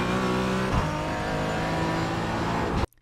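A GT4 race car engine in the iRacing sim racing game runs hard under throttle with a loud, steady, harmonic drone and a brief dip near one second, cutting off abruptly just before the end.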